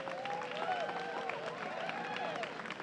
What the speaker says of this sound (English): another round of applause for the Elliott School, St. John School, and of course,